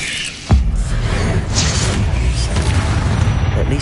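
A Bombarda spell explosion in Hogwarts Legacy hits as a sudden loud boom after a short quiet start, then leaves a dense rumbling roar that carries on to the end.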